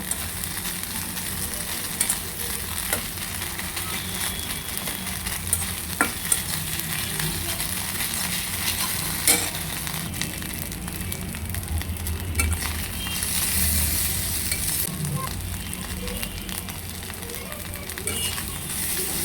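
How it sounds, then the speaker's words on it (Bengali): Sidol shutki, dried fish, fries in a little oil in a wok, giving a steady close sizzle with scraping stirs and occasional faint clinks throughout. "কড়াইতে সামান্য তেল দিয়ে এখন ভেজে নিচ্ছি"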